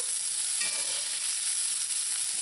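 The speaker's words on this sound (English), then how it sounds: "when your oil is hot, add your sliced onions and let it brown a little" Sliced onions browning in hot oil for a Trinidad smoked herring dish, giving a bright, even hiss of frying that carries on steadily with no voices.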